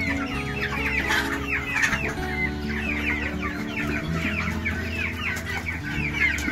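Chickens and roosters clucking on a poultry farm, a dense continuous chorus of overlapping clucks and calls close by, with a steady low hum of background noise.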